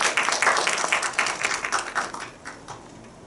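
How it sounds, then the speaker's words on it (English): Applause from an audience after a short speech, a scattered patter of claps that starts loud and thins out toward the end, with no talking over it. "Let's give him a round of applause."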